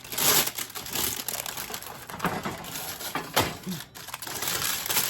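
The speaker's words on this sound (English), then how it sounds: "let me grab one more piece of parchment" Parchment paper crinkles and rustles up close as a sheet is torn off and laid out in a kitchen for cooking canned bacon, with continuous crackling that comes in uneven bursts.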